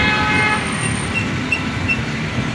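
LRT train at Pulo Mas station in Jakarta, a rumbling rail passage with horn-like tonal toots sustained throughout, heard fairly loud and close with no talking over it.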